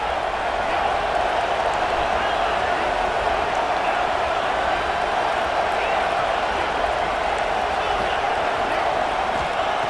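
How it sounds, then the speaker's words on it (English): Broad, steady roar of a stadium crowd at a Notre Dame versus Oregon football game, a dense wash of cheering and noise that fills the whole stretch without clear breaks. "Listen to the crowd energy here in the early going. This is a tough, tough environment for visitors."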